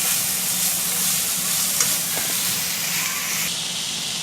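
Potatoes, chicken and red and green bell peppers frying in a pan give a steady, fairly loud broadband sizzle with a faint hiss, continuous throughout with a small clink near the middle.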